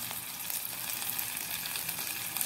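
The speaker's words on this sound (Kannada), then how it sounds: "ಸಾಸಿವೆ ಚಟ್ಪಟ ಹೇಳ್ತಾ ಇದೆ" Mustard seeds and ginger sizzle in hot oil in a pan, a steady close hiss scattered with small crackling pops and no talking over it.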